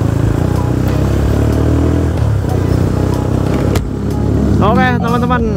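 Honda Megapro motorcycle with a bored-up engine, heard while riding: a loud, steady engine drone with some revving, then a brief drop before the motor picks up again alongside a voice.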